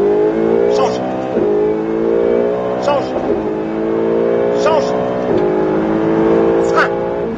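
A race car on a track accelerates hard at full throttle, its engine note climbing in pitch through several gear changes with brief dips between them, loud and close from inside the cockpit while an instructor speaks over it.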